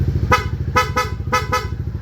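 A Yamaha NMAX motorcycle horn beeps five times in quick short bursts in rapid mode, loud and close, over the low rumble of a running engine.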